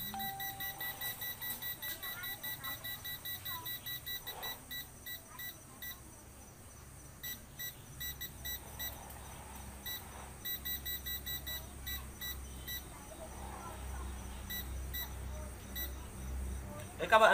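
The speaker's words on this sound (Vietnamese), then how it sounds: "Đây như đây là tiếng kêu tít tít đây các bạn ơi." A construction laser level repeatedly emits rapid high-pitched beeps while not yet level, clusters of short electronic chirps that pause and resume, with someone talking faintly at times.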